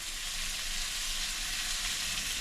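Garlic and ginger paste fries with ground spices in a pan for a Bengali crab curry, making a steady, close hiss and crackle of sizzling oil throughout, with no voices.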